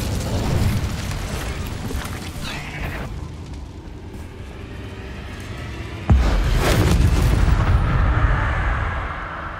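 Incendio fire spell blasts in Hogwarts Legacy: a roaring, whooshing burst of flame that fades, then a sudden loud boom midway followed by a sustained fiery rumble, close and full.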